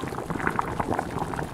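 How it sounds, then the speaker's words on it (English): Pasta boiling in a pot gives a short burst of bubbling and popping water, moderately close and steady, with no talk over it. "Sounds like it's boiling pasta."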